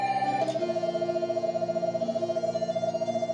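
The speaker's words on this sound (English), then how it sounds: "Oh, phone call!" Phone ringing in The Room video game: a synthetic electronic ringtone with a sustained pitched tone over a soft repeating pulse, steady and clear with no voices.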